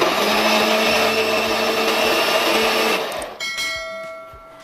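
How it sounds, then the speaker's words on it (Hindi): Mixer grinder blending cooled tomatoes with about a third cup of water into a paste, a loud steady whirring drone for three seconds that cuts off and winds down with ringing tones. "मिक्सी के जार में हमने इसको डाल दिया, इसके अंदर ऐड कर देंगे थोड़ा सा पानी तकरीबन 1/3 कप के करीब, और इसकी जो है हम एक पेस्ट बनाकर रेडी कर लेंगे।"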